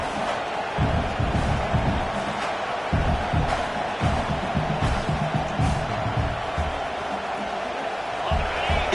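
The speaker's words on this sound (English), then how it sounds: "this crowd is fired up. Listen to this noise here." Loud, steady roar of a football stadium crowd at an Ohio State versus Clemson game, a dense wall of cheering and noise running unbroken throughout with bursts of louder shouting.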